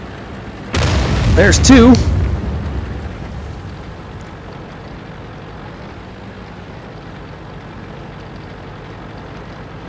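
In a tank video game, artillery fire lands near an M18 tank with a loud close boom and a rumbling roll that fades over a few seconds, with someone speaking briefly as it hits.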